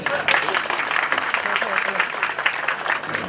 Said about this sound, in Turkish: Bir alkışlayalım arkadaşlar.